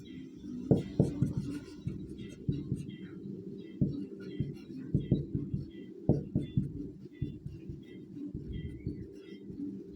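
Quick scratchy strokes of writing on a board during a lecture come in irregular bursts, heard faintly under a low voice talking throughout.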